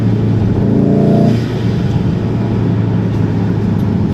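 A 306 hp VW Golf R MK7.5 revving while driving, a loud steady engine drone with a brief rising rev tone early on that then falls back into road and engine rumble, heard from inside the car without speech.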